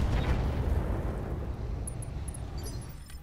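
Mech weapons firing in the video game Roguetech, a heavy booming blast that rumbles and decays over a few seconds, with faint high electronic beeps near the end.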